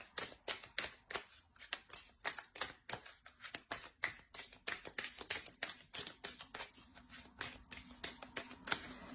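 Oracle cards being shuffled by hand, a fast, steady run of crisp riffling flicks and slaps that continues for several seconds, close and clear, with no talking.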